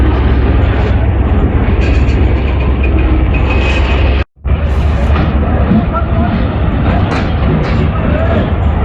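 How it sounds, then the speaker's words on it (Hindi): A freight train hauled by an NLC locomotive rolls past close by, a loud, steady rumble and roar of wagons continuing throughout with only a brief dropout partway through. "एनएलसी के लोकोमोटिव के साथ भी ये फ्रेट ट्रेन यहाँ से पास हो रही है"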